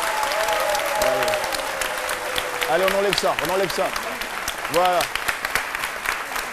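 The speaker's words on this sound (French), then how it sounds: "On va l'applaudir, elle se gêne." A television studio audience applauds in steady clapping that runs throughout, with a presenter talking over it.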